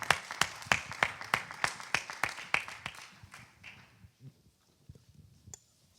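Conference audience applauding, a burst of sharp claps that is dense and loud at first, then thins out and fades to a few scattered claps.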